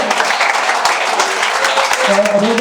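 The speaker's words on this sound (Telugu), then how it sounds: "అందరూ ఒకసారి క్లాప్స్ ఇవ్వాలి" An audience claps for a woman's birthday at a welfare society service gathering. The applause is steady and dense throughout, and a voice or tone surfaces faintly near the end.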